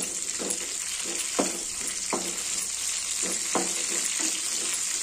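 Green chillies sizzle steadily in hot oil, with a run of sharp clicks as they are stirred in the pan, close and alone.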